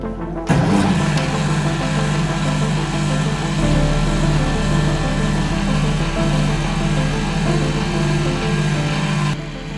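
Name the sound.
Liberty Engine 1.0 generator machine starting and running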